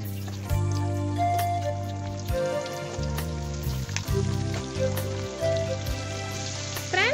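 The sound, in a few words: catfish frying in hot oil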